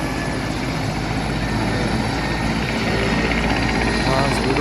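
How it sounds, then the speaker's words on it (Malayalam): A helicopter starting up and running on the trek to Everest Base Camp in Nepal, a loud, steady rotor and engine roar that fills the scene continuously, with speech underneath. "ഹെലികോപ്റ്റർ എന്താ സ്റ്റാർട്ട് ചെയ്ത് പിടിച്ചിക്കല്ലോ."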